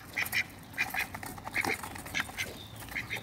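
Ducks quacking close by, short nasal quacks coming in quick pairs again and again over a faint background.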